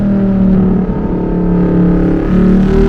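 A Lamborghini Huracan EVO with a 631-horsepower engine drones loud and close from inside the car, a dense throbbing note that dips briefly as it snaps through a quick gear shift.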